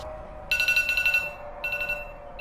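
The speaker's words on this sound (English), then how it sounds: "That was my alarm for the recording here." Alarm chiming with a bright, high electronic ring in two bursts over a steady background hum, fairly loud and close with no talking.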